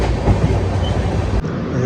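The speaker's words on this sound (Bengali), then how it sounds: "এই ট্রেন এসে দাঁড়ালো হচ্ছে ভদ্রক" Jan Shatabdi Express 12073 pulling into Bhadrak station on the Howrah to Bhubaneswar run: a loud, steady rumble of rolling wagons with wheel noise, close by and continuous, briefly dipping near the end.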